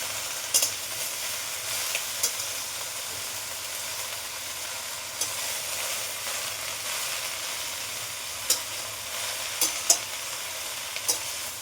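Chalkumra (ash gourd) leafy greens hiss and sizzle steadily in a hot wok, with occasional clicks and scrapes from stirring.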